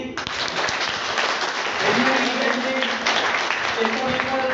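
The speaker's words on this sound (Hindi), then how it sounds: "तो कैसी तालियां बजनी चाहिए?" An audience at an RCM business meeting breaks into clapping, a close, steady round of applause with voices talking and calling out over it.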